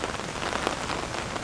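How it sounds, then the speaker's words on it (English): Heavy rain pouring outside in Bali, a dense steady hiss of drops hitting surfaces, loud and close with scattered sharper splats and no talking. "it is pouring rain outside right now"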